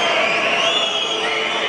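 A boxing arena crowd roars in a loud, dense wall of shouting and jeering after a point deduction, sustained throughout with no pause.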